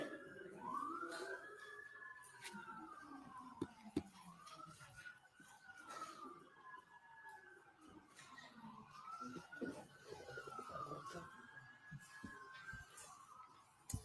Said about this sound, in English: I'll let the sirens go by.